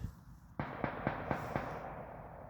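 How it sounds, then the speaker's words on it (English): Fireworks pop in a rapid series of about five sharp cracks at a steady pace, heard at a distance through a room over a broad background hiss, with no talking. "That's fireworks going off almost certainly."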